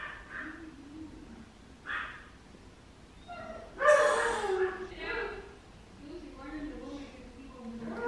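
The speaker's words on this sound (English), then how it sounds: "You can hear my roommate's dog screaming in the background." A dog whines and yips in the background, its high cries rising in a few short bursts under a person talking close by.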